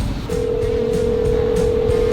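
A phone call being placed from inside a car gives a steady, loud electronic ringback tone held for about two seconds over low cabin hum, with no voices.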